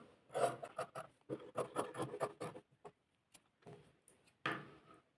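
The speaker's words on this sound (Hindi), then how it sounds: "अब इसमें आधा इंच कपड़ा छोड़ देंगे सिलाई से, और कटिंग कर लेंगे पूरे कपड़े की।" Scissors cut through suit cloth in short raspy snips, coming in quick bursts with pauses between them, close and fairly quiet.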